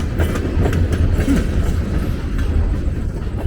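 Train rolling past on rails near a bridge crossing in Trenton, loud and close, with a continuous low rumble and rhythmic clickety-clack of wheels over rail joints throughout.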